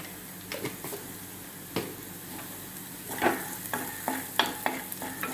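Turmeric and chilli powder are sautéed in a pan with lentils for drumstick leaf thoran, producing a soft continuous sizzle broken by repeated scraping stirs of a spatula against the pan, close and moderately loud.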